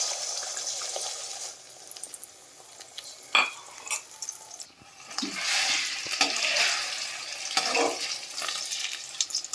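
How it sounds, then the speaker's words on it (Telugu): An egg dropped into about two spoons of hot oil in a pan: a few sharp splatters, then a steady, fairly close sizzling hiss that swells and crackles for several seconds, with no one speaking. "ఇప్పుడు వేడైన ఆయిల్లో ఈ గుడ్డుని ఇందులో వేసేద్దాము"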